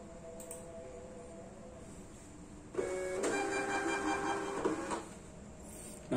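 A label printer prints QR and Code 128 barcode labels, a faint steady whir rising partway through into a louder mechanical feed lasting about two seconds before dropping back to a quiet hum.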